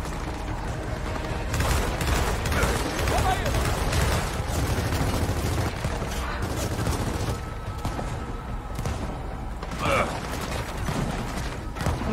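Gunfire in the video game Gears of War 4, dense mechanical rattling bursts of weapon fire running continuously under someone speaking.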